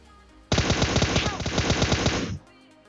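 A rapid automatic burst of gunfire in the battle royale game PUBG rattles off loudly for about two seconds, the sharp shots evenly spaced and close, with no talking.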